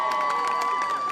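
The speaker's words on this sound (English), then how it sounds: "The crowd goes crazy." A street-show crowd at Covent Garden in London cheers and claps at the finish of a performance, a brief burst of noisy applause with a high whistle-like tone through it.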